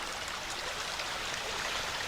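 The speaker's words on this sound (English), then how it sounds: "We'll have to say goodbye to the creek" A woodland creek in a Pennsylvania natural area flows in a steady, dense hiss of running water, continuous and fairly soft, with no talk over it.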